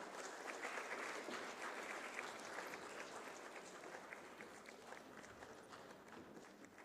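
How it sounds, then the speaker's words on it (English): Sustained applause fills a formal disability-inclusion event hall as a memento is presented to a representative by dignitaries on the dais, dense steady clapping from a large audience that fades slightly toward the end. "A huge round of applause."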